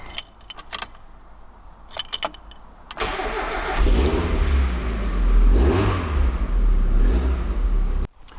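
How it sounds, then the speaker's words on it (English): Keys jingle a few times before a 1990 Mazda MX5 Mk1 roadster's engine cranks and fires at three seconds, settling into a loud, raspy aftermarket-style exhaust idle with a couple of revs, then cutting off abruptly near eight seconds. "I quite like the exhaust because it sounds good, but it's sort of that raspy."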